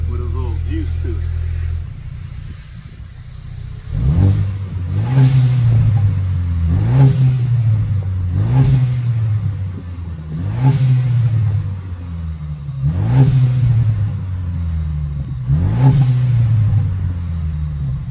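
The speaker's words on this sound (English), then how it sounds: "we'll give it a couple of light revs to let you hear what it sounds like with a little juice to it" A 2022 Ford Maverick engine idles, then gets a series of light throttle blips, six or so short rising revs that settle back to idle between each, loud and close.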